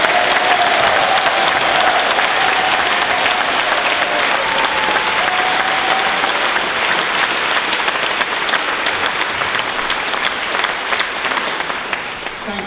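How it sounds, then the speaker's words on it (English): Sustained applause from an audience at a celebration of Tony Benn's life held by the Stop the War Coalition, loud and steady throughout before tapering slightly at the end. "I think that deserves a round of applause for Tony Benn."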